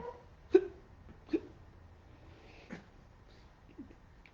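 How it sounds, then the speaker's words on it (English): Several sharp, isolated hiccups pop out at irregular intervals, fairly close and moderately loud, over a quiet background during a storytelling session. "I've got a terrible case of hiccups."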